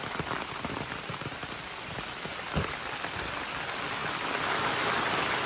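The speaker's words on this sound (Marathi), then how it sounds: "पाऊस जोरदार आहे सध्या कोकणात." Heavy monsoon rain falls on a cashew orchard in Konkan, a dense, steady hiss of drops striking leaves and ground, with scattered louder individual hits.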